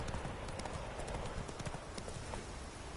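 Hooves of Roach, Geralt's horse in The Witcher 3, clop in a steady trotting rhythm on a road, close and distinct over a dense game soundscape.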